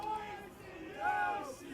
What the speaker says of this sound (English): And the Imperial crowd clearly approve of that.